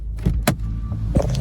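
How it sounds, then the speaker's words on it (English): A manual mk7.5 Volkswagen Golf R idles after a Compustar remote start, then its door locks release in a pair of sharp mechanical clunks over the steady engine hum. "when you let go of the brake, you'll hear the doors unlock"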